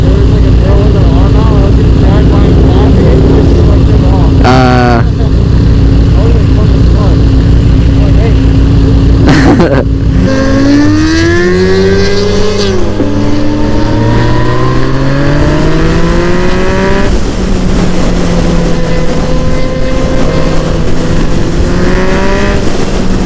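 A vehicle engine pulls hard in third gear on a ride, a loud close drone with rising revs and pitch sweeps that climb and settle repeatedly, with a voice talking over it.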